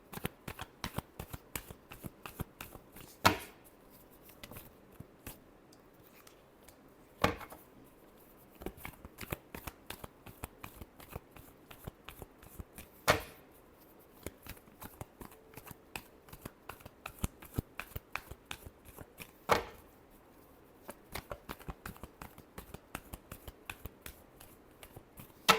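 Tarot cards are shuffled close up, a quiet run of crisp riffling flicks with a few sharper slaps as the deck is squared.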